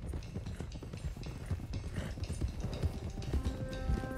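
Horses' hooves in Red Dead Redemption 2, a quick clip-clop of several horses being driven along at pace, rhythmic and close, with faint voices now and then.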